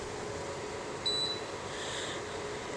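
A Cascade tower fan gives a short electronic beep as a remote control button is pressed, one brief tone over the fan's steady airy hum, with no talking.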